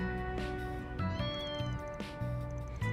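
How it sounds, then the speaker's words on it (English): Several cats in the video game Trails Through Daybreak meow one after another in short, clear calls spaced about a second apart, layered over steady background music. "Cats."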